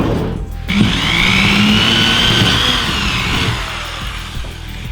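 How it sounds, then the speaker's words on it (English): A power drill bores a hole through a wooden board for a handmade fingerboard park, its motor whining steadily at close range for several seconds with a grinding, buzzing texture and no talk. "So you may be wondering why we just drilled a hole."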